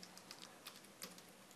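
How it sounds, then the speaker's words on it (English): Quiet, close keystrokes on a computer keyboard, a short irregular burst of soft clicks during typing at a desk. "So now I'm just typing a name"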